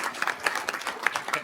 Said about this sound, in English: If you all don't mind giving them a round of applause and thanking them for what they do